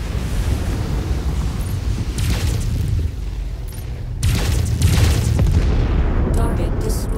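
A backup generator at a derelict plant is destroyed in Mechwarrior 5, with a loud, rumbling explosion under heavy continuous battle noise. A voice speaks over it, and the boom swells in the second half.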